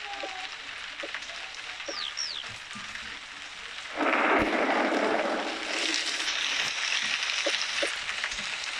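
A storm in the Toca Life World video game brings continuous rain with low rumbling, and a heavier downpour of hiss swells in halfway through, loud and steady, with faint game chirps early on.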